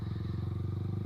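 An expensive motorcycle at a Sunday-morning ride meet in Grand Wisata runs with a steady, pulsing engine rumble, close and fairly loud, with no talk.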